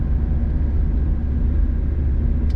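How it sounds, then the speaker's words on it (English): Mazda Miata NB engine running steadily close by, a continuous low, buzzy drone with no talk over it. "This engine here is a little bit buzzy though, especially in the higher RPM."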